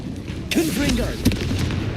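A Confringo explosion spell goes off in the Hogwarts Legacy video game as a loud burst about half a second in, followed by a swirling whoosh and a second sharp pop, all over a steady ambient rumble.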